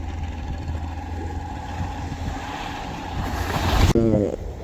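A fishing boat heads out to sea, its engine a steady low rumble mixed with wind and water noise, building louder near the end before a sudden cut; no one speaks.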